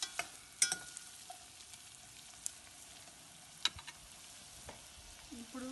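Chana dal fries quietly over low heat in a pan, a faint continuous sizzle punctuated by a few scattered clicks and scrapes as it is stirred, with no talk.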